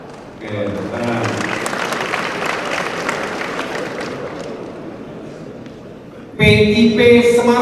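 A graduating crowd of transport academy students breaks into steady applause that builds quickly and fades slowly, followed by a loud voice over the speakers.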